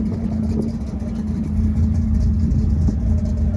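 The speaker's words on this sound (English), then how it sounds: "Let's listen to this one start up." A lifted truck's engine at a car show rumbles with a steady, loud, low idle throughout, with no break or change in pitch.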